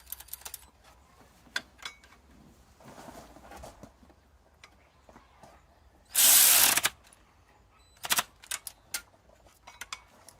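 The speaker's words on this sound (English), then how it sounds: "just put tension on it and then tighten up that 13 millimeter bolt, and that'll lock it out of the way" Quiet workshop with scattered metallic clicks and tool handling while working on a Mazda B2500 timing belt tensioner, including a short loud burst of a power tool driving a 13 mm bolt midway, then a few more ratcheting clicks.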